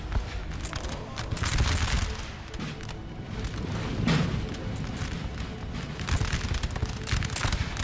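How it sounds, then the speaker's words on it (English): Musket volleys and massed gunfire crackle in a Napoleon Total War battle at Castiglione, a dense, continuous roar of overlapping shots with heavier booming bursts near the four-second mark and again toward the end. "A lot of bullets."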